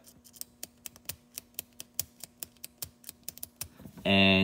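A ballpoint pen fitted with a swapped Parker-style G2 refill clicks repeatedly, about fifteen sharp, close clicks in a steady rhythm over a quiet background, with no voice until the very end.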